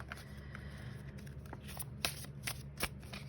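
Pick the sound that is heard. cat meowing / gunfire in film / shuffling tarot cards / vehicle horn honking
shuffling tarot cards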